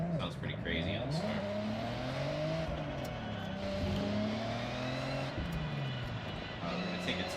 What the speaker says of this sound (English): you hear the cams popping just on idle. Sounds pretty crazy on this car.